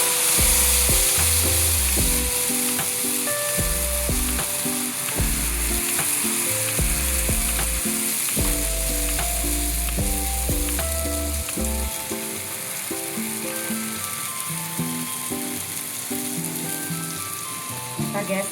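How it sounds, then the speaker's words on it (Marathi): Jowar flour dhirde batter sizzles steadily on a hot griddle, a dense continuous frying hiss with soft stirring and scraping touches, close and loud, with background music running throughout. "आपण हे धिरडं तव्यावर घालून घेऊ"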